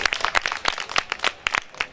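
Audience clapping at a Christmas gathering in Benin, a burst of scattered, uneven handclaps for about two seconds without voices over it.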